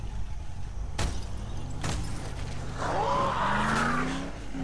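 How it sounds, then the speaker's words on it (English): Vehicle in the zombie game Dead Island driving and skidding, engine hum with two sharp impacts followed by a rising tire squeal and revving, fairly close and alone. "the fact you can drive vehicles means you can drive around, ramming zombies and ramming lampposts"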